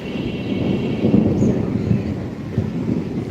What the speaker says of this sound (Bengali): বাতাস চলতেছে বৃষ্টি পড়তে পড়তে আবার থামিয়েছে